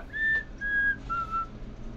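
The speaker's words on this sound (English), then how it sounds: "Sorry about my whistles, I always do it." A person whistles three short sustained notes, each pitched a little lower than the one before, clear and close in a quiet room.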